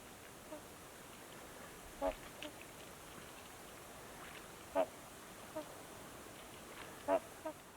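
Several large geese or swans on the Yukon River give three or four brief, faint honking calls at spaced intervals over a quiet, hissy open-air background.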